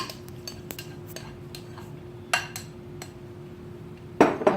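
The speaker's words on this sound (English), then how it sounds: "we're going to mix our meat" One and a half pounds of ground beef is mixed in a bowl: scattered light clinks and taps of a utensil against the bowl over a low steady hum, with a louder scraping burst near the end.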